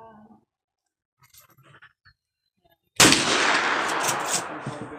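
Lever-action rifle firing at a shooting range, a single sharp loud report after a few seconds of near silence, followed by a lingering echoing tail.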